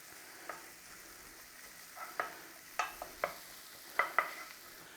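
Onion sautéing gently over low heat in a pan: a faint steady sizzle with a few soft stirring scrapes and clicks spread across the clip, no voices.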